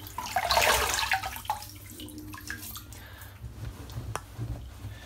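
Cold water splashes and drips close by as a face is wetted for a shave, a burst of wet splashing at the start followed by scattered smaller drips and squishes.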